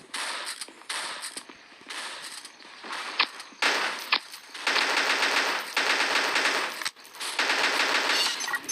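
Sniper rifle fire in the video game Pixel Gun 3D, a run of sharp, loud synthetic gunshot bursts in choppy groups with brief gaps between, and no speech over them.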